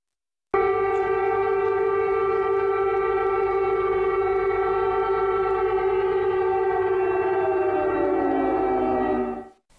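Air raid siren wailing in a Ukrainian city, a loud sustained mechanical tone holding steady for several seconds before winding down in pitch and cutting off, with nothing else heard.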